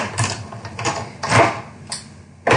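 A die-cutting machine cranks paper through Curvy Dies, giving a run of several mechanical grinding and clicking bursts of uneven length with short pauses between them, close and fairly loud, with no voices.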